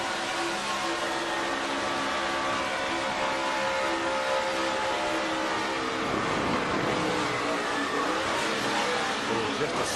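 NASCAR race cars roar through turns 1 and 2 of an oval, a dense, continuous engine drone with layered revving pitches swelling as cars pass, heard from a distance under steady crowd-like noise and commentary.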